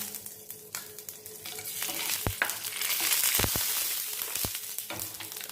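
Dry red chillies frying in a little oil in a pan, a steady crackling sizzle with occasional sharp clinks of a stirring spoon against the pan.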